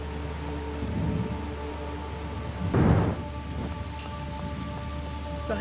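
Steady rain pours in a thunderstorm from the puzzle game The Gardens Between, and one loud rumble of thunder swells near the middle before fading back into the constant hiss of rainfall.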